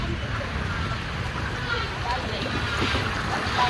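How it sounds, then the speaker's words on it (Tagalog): Strong sea waves are heard from a boat nearing a feeder port on the coast of Dingalan, Aurora. Wind and water make a loud, steady rushing wash that fills the whole stretch. "Lakas ng alon."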